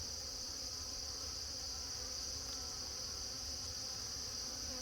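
Honey bees buzz around an open nuc hive during a late-season inspection, a steady dense drone with a constant high whine, close and unbroken, with no talking.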